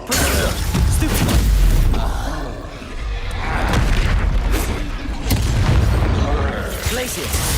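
Deep, rumbling spell blasts in the video game Hogwarts Legacy, with heavy booms rolling one after another through a dense battle mix while a voice talks over the action.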